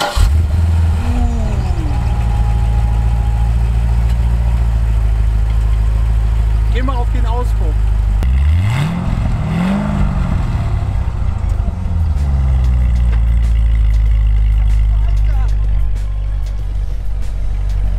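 A 7-litre, 512 hp diesel truck engine turns over and settles into a steady, loud idle with a low droning rumble, with a couple of rev swells partway through; people talk over it.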